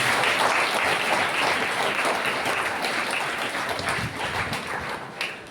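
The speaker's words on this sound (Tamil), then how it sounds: "கைத்தட்டி மாதத்துக்கு நன்றி சொல்லிடலாமே." A crowd at a Catholic church festival claps their hands in thanks, producing a loud, dense, continuous wash of applause that stays steady for several seconds and thins slightly near the end.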